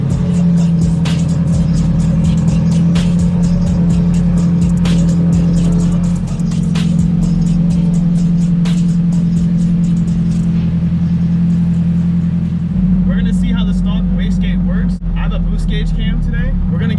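A Nissan SR20 car engine fitted with a T25 turbo runs loud and close with a steady, droning rumble that holds level throughout, without clear rising revs.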